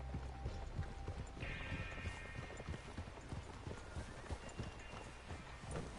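Horse hooves clip-clop steadily through a video game scene on a ridge near a water tower, a close, continuous rhythmic clatter over a busy game soundscape with a faint tonal whine.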